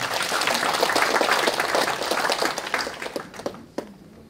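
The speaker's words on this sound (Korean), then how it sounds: "박수 부탁드리겠습니다" A lecture audience claps for a speaker at a talk on Korean War psychological warfare, dense applause at first that thins into scattered claps and dies away near the end.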